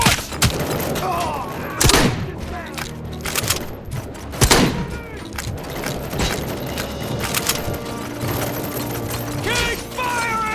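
Gunfire in RoboCop Rogue City, a loud, continuous fusillade of rapid shots with heavy impacts and mechanical clanks, with game voices shouting over the firing.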